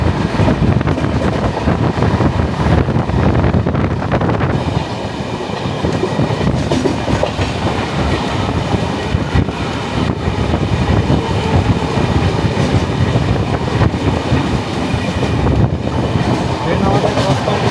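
A 22503 Kanyakumari–Dibrugarh Vivek Express runs loud and close, with a steady roar of wheels and carriages, rhythmic clatter and wind rush, and a brief dip in intensity partway through.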